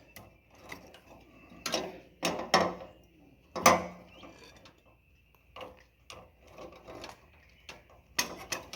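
A wooden sawhorse leg is used to bang stuck bolts loose during a hardy disc replacement on a Rans S12 ultralight aircraft with a Rotax engine, giving sharp, irregular metallic knocks spaced a second or so apart, with no talking.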